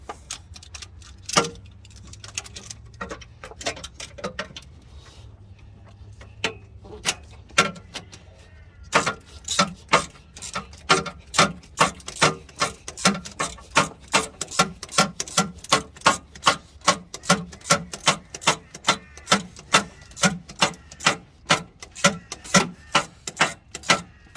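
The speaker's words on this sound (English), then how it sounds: "now we're going to tighten up the two 14mm bolts on the starter motor itself" Two 14mm bolts on the starter motor of a Toyota Tarago are tightened by hand, a long run of rapid, evenly spaced ratchet clicks close up, sparse at first and then dense and regular.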